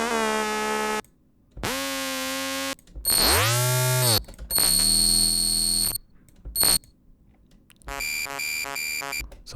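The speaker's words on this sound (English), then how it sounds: "some alarm" A sequence of separate synthetic alarm tones: sirens sweeping up and down, steady electronic beeps and a fast pulsing buzzer, each loud and separated by short silences.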